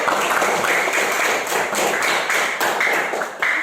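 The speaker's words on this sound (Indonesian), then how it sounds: "Beri tepuk tangan untuk Rehan dan Claudia." Classroom students clap for classmates after a presentation, a quick crowded patter of small-room applause, close and steady with no voices over it.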